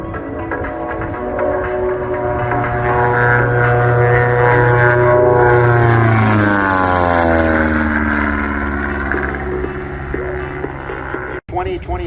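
A Long-EZ propeller plane at Airshow Atlantic in Debert makes a loud, close flyby: the droning engine builds, then its pitch drops sharply as it passes and fades away.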